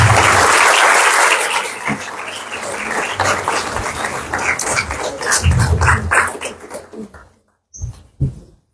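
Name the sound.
applause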